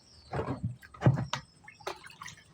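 A measured liquid stirred into water for treating elephant foot yam seed tubers: a few short, close sloshing and dripping bursts separated by quiet gaps, with no talking.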